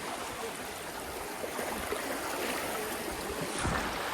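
A river flows with force past bathers near Mantralayam, making a continuous broadband rush of water that stays steady and fairly faint throughout, with occasional splashes.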